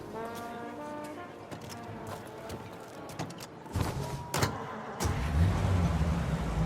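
A vintage car being driven in the video game Mafia Definitive Edition, engine humming steadily under horn-like musical tones, then revving louder and rougher in the final seconds.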